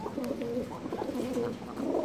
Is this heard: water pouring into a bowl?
no